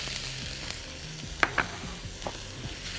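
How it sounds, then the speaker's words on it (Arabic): Onions frying in olive oil in a pan, a faint steady sizzle broken by a few sharp utensil clicks and scrapes, heard close. "شوية من زيت الزيتون في الطاسة، هنزل على طول بالبصل"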